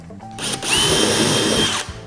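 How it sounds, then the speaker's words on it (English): A power drill whirs loudly and steadily for over a second, spinning up and then stopping, close by, drilling an exit hole while installing a Newport NK300 motorization kit on an XTR130. "Now let's drill the exit hole."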